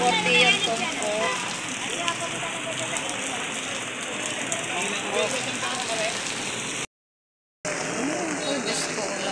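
Rain pours steadily onto surfaces at the Malabon fish market by the pier, a dense hiss with close crackling patter under the chatter of vendors and shoppers, with a brief dropout near the end.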